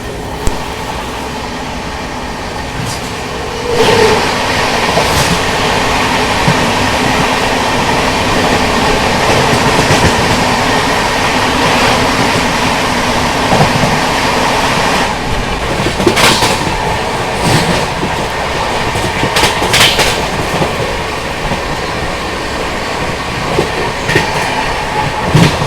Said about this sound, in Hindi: तो यहाँ पर अभी सामने से आ रही है पुरुषोत्तम एक्सप्रेस।